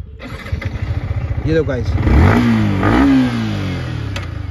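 A Yamaha MT-15 V2 2024 motorcycle engine idles in neutral with a rapid throbbing putter, then revs up loudly and settles, while someone talks over it.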